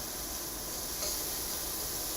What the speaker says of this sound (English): So here our spring onions are getting some color. They are. They're sizzling.